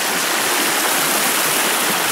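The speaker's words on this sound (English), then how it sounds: "This is Bullis Creek." Bullis Creek water rushes steadily beneath a bridge on Bonner Horton Road, producing a dense, continuous hiss and gurgle heard up close, with no voices.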